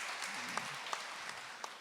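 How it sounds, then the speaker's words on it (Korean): Forum audience giving a round of applause, a soft, fairly distant patter of clapping with a few sharper claps standing out and a brief murmur of voice at the start. "큰 박수 부탁드립니다"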